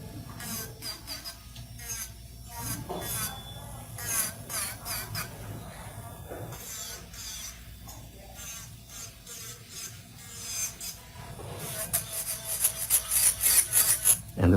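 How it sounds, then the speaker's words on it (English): Electric nail drill with a carbide bit grinding into an acrylic nail: an uneven, raspy buzzing scrape in repeated short passes, close up, with a faint whine in places. "This is a carbide bit, meaning that it's gonna eat into the acrylic."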